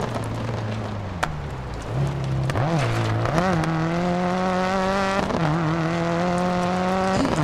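Rally car in the DiRT 4 racing game, engine revving up and down through gear changes with rising and falling pitch, loud and close, with tire and gravel noise and a few sharp knocks.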